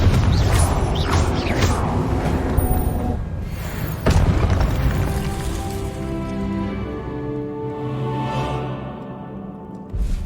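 A Confringo spell explodes in the Hogwarts Legacy video game, a loud booming blast that rolls into crashing debris, followed by a second impact and a long fading rumble with ringing magical tones.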